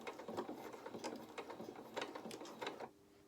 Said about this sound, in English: So a couple of stitches forward and then a couple of stitches back.